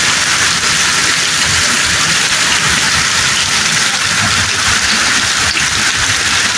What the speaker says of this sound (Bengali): খুব ভারী বৃষ্টি হচ্ছে।